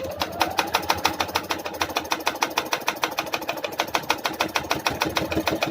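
Close sewing machine stitching a kurta hem at a folded corner, running at a steady even speed with a crisp, regular needle tick repeating throughout, no voices over it.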